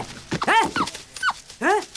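A dog from a Tamil film scene whimpers and yips in several short, close bursts of rising and falling cries, with brief gaps between them and no talking.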